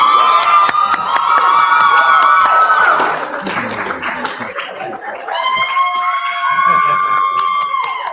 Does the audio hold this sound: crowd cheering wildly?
yes